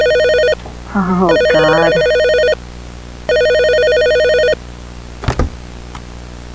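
A telephone rings with an incoming call in two long electronic ring bursts separated by a pause. A person speaks briefly between the rings, and a sharp knock or thud follows afterward.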